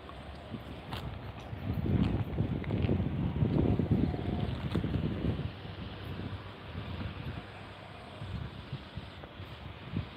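Wind blows strongly against the microphone outdoors, a rumbling, gusty roar that rises in the middle and then eases to a steadier rush.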